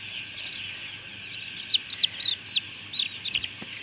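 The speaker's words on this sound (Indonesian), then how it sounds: "Nah, ini kondisi ayam yang jantan ya teman-teman" Eight-day-old male broiler chickens cheep in a coop with a dense, continuous chorus of high peeps, and a few louder, sharper calls rise close by near the end.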